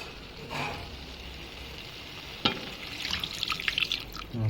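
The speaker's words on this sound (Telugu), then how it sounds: "వాటర్ పోసుకున్నాము." Water is poured into a pot of chicken curry being cooked at home: a soft, faint trickle with a sharp splash partway through, then brighter dribbling and splashing near the end, with no speech.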